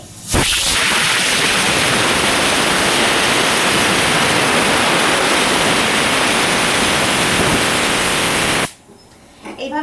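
Pointed gourd (potol) skin being scraped, a steady loud rasping hiss that runs almost unbroken for about nine seconds before stopping abruptly, leaving quieter scratching at the end.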